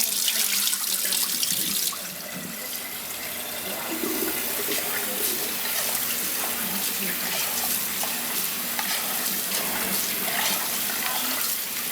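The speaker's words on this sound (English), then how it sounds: "basmati you rinse. I rinse until my water runs clean." Water runs steadily from a tap into a sink, a continuous splashing rush as basmati rice is rinsed, with faint handling noises of grains run through fingers mixed in.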